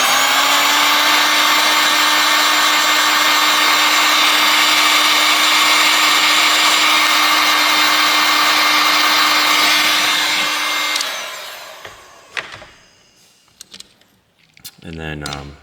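A heat gun warms a BLU G84 (G1050WW) phone to loosen its screen, giving a loud, steady blowing whir for about eleven seconds before cutting off, followed by scattered clicks and handling noises.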